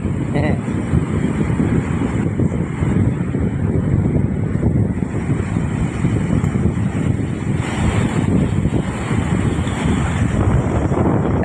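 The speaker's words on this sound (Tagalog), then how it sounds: "Mga super lakas talaga ng hangin." Strong typhoon wind buffets the microphone with a continuous roaring rumble, mixed with the wash of waves, for several seconds.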